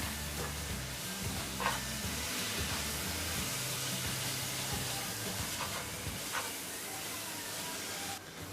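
Steady sizzling fills the pan while a utensil stirs through spices and turmeric powder for cauliflower curry, with a few faint scrapes over the constant frying hiss.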